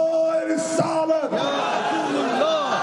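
A massed rally crowd at a PTI gathering in Shikarpur, Sindh chants back in unison to slogans called over a loudspeaker, a sustained amplified voice overlapping with loud, wavering group shouts that rise and fall continuously.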